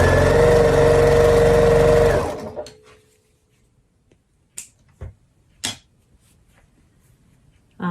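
A sewing machine stitches quilt units onto a side at a fast steady whir for about two seconds, close and loud, then stops, followed by a few sharp handling clicks and taps in a quiet room.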